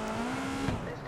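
A car just started in the video game Watch Dogs 2 runs with a brief, steady engine hum and a short scuffing burst near the end, heard close for about a second.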